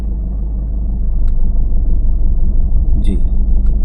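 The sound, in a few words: car driving forward using the clutch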